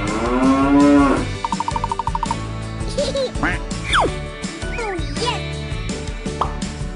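A cartoonish cow moos once, loud and close, in a toy-like animal sound game, followed by quacks, plops and squeaky playful effects in quick succession.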